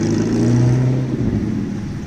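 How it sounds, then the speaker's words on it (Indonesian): An MPM intercity bus bound for Jakarta pulling into a terminal, its engine rumbling low and loud up close, swelling briefly then easing off as it rolls in. "ada bus MPM tujuan Kota Jakarta yang hari ini masuk ke terminal ini"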